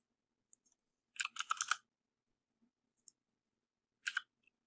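Crisp, close clicks of computer keys and mouse buttons while working in Blender, a quick burst of several taps in a row, then a lone click and a short cluster later, all in near silence.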